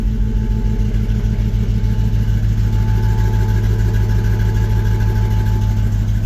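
A 1954 Chevy 3100 pickup truck engine idles cold, a steady low, rumbling drone with a regular pulsing beat, loud and close throughout with no talking.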